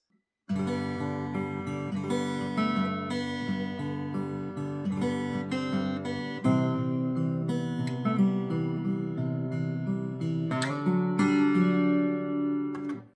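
A clean guitar picks a melodic line with small decorative flourishes over ringing low notes, steady and moderately quiet, with no one speaking.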